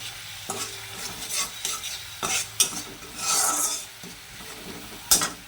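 Ground spice paste, tempered with whole cumin and black cumin, hits a hot kadai (wok) and fries, giving soft sizzling with intermittent scraping and stirring strokes and a sharp clack or two, close by and without speech.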